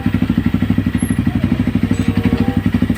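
A Honda CRF250L fitted with a full-system muffler runs at low speed, giving a steady, close, rhythmic thumping exhaust pulse with a light mechanical clatter, heard alone without talk.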